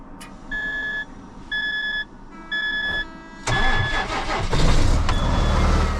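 A car engine cranks and starts after its weak battery has been charged for about a minute, following three electronic dashboard beeps; the engine then settles into a loud, steady idle close by.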